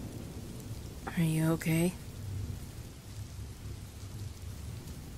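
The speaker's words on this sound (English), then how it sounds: "Are you afraid of thunder?" Steady rain falls throughout a thunderstorm, with a low rumbling undertone; a voice speaks briefly near the start over the continuous hiss.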